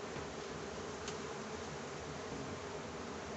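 Honey bees hum in a dense, continuous buzz around a hive kept on a city balcony, steady and close with no breaks or voices.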